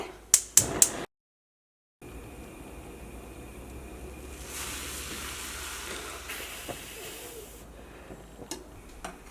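Milk heats to a boil in a pan on a stove, a soft steady sizzle and bubbling hiss that rises slightly in the middle, after a few sharp clicks and a short silence at the start.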